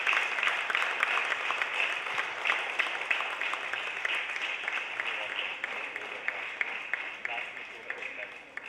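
Audience applause at a literature festival session in Delhi, dense sustained clapping from a large crowd, loud and even for several seconds before slowly thinning toward the end.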